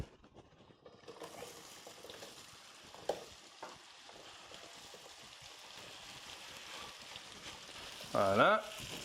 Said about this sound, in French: Alors, on va faire compoter les pommes